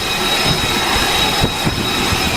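A fighter-bomber jet engine roars on the flight deck of the USS Boxer, a loud steady broadband rumble that holds for a couple of seconds with a faint high whine on top.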